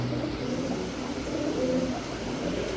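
A pair of Sakhi Teddy pigeons coos steadily in low, soft, repeated calls close by, with a faint constant hum behind them and no talking.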